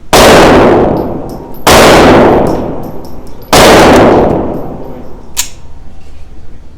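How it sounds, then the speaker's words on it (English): Three loud, close gunshots from a Taurus TX22 pistol firing Winchester Super X ammo at steel targets, each shot ringing with a long decaying clang, spaced roughly evenly. "We'll shoot the Winchester Super X first."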